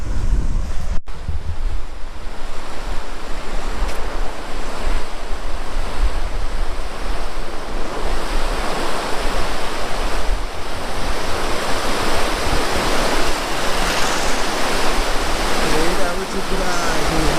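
Loud, steady roar of water rushing through the gates of the Indravati main dam, a continuous broadband wash blended with wind buffeting the microphone throughout.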